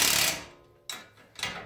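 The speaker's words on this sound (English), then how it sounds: "Okay, so got my wrench." A wrench works on the coilover suspension of an EM2 car, giving three sharp metallic ratcheting bursts close by, each fading quickly, with the second and third coming in quick succession.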